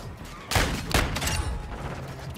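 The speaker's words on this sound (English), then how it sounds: "I'm just running around firing this magnum off" A couple of loud magnum revolver shots in the shooter game Modern Warfare II, two sharp blasts about half a second apart followed by a noisy rumbling tail.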